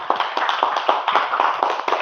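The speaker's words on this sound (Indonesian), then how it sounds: "Tepuk tangan dulu untuk kelompok 1" A classroom group of students claps, a brisk burst of many hands close by, uneven and lively throughout.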